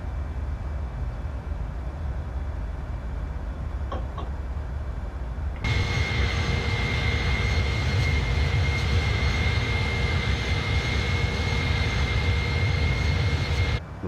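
Simulated airliner engines in Microsoft Flight Simulator 2020 hum as a broad steady roar with a faint whine, stepping abruptly louder partway through and holding constant.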